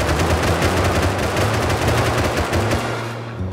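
Rapid automatic gunfire from the video game Rust, shots striking a door during a base raid, loud and continuous bursts with a metallic edge, tailing off slightly at the end.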